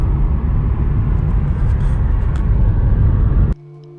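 A car rolls along a road toward Elbrus in Kabardino-Balkaria, North Caucasus, with a steady, loud low engine and tyre rumble from inside the vehicle that cuts off abruptly near the end, leaving a faint hum.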